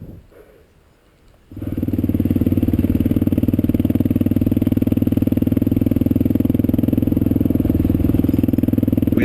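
Kawasaki KLR650 motorcycle ridden on a muddy dirt road, its single-cylinder engine thumping loudly and steadily up close after a brief quiet start.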